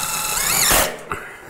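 A power drill whirs up to a high whine and strains briefly as it drives a screw into a bulkhead, then cuts off, followed by a short second burst.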